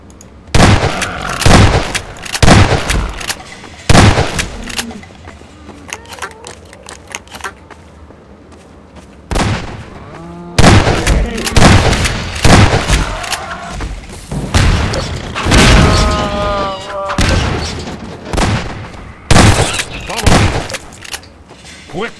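Magnum revolver gunshots in Half-Life 2, a series of loud sharp booming shots fired one after another in separate bursts, with someone talking between and over them.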